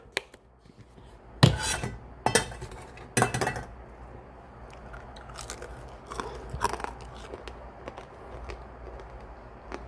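Loud, crisp crunching bites followed by steady close-up chewing, with occasional clinks of utensils against a plate and no talking.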